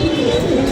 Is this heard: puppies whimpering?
no